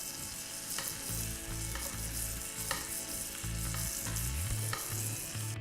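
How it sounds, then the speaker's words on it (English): Lamb frying in foaming butter in a hot pan while being basted, giving a steady close sizzle with bursts of spitting and crackle and low clatter from the pan and spoon throughout. "Once it's foaming, the lamb will go in, we'll baste it with the butter."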